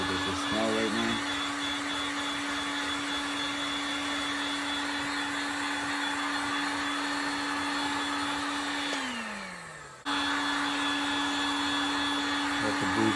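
A hair dryer blows steadily, heating leather preservative on a Timberland Pro Titan EV composite-toe boot. Its loud, constant whine runs close throughout, winds down briefly near the end, then snaps back to full speed.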